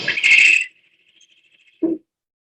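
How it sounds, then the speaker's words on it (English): A great horned owl gives a harsh, raspy squawk that trails into a thin fading whine, then a short lower squawk follows after a pause, heard outdoors at night. "that's the great horned owl again"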